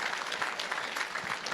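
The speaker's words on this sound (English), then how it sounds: "give him a massive round of applause" Audience at a fire-walk charity fundraiser breaks into dense, steady applause, many hands clapping together in a continuous, fairly loud wash with no voices standing out.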